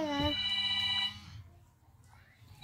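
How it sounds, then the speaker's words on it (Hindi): A telephone rings with a bright, electronic warbling tone at the start, then stops, leaving quiet room noise and faint voices. "फोन फोन आ रहा है।"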